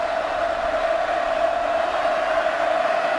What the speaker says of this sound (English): Here comes that crowd again on 3rd down and 5.